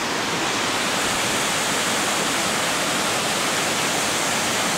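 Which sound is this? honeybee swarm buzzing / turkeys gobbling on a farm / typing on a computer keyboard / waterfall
waterfall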